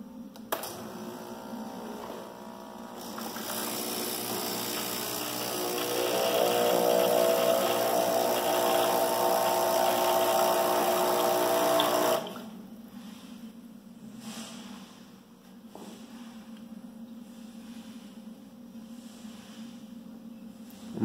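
A Pop Plus pool filter starts after its blue button is pressed, giving a steady, fairly loud motor hum that runs for about nine seconds and then cuts off, leaving a low background hum.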